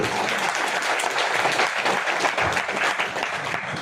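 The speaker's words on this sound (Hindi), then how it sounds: "मैडम के लिए जोरदार ताली" An audience at an RCM business seminar in Faridabad gives someone speaker sustained, loud, dense applause that keeps an even level throughout with no break.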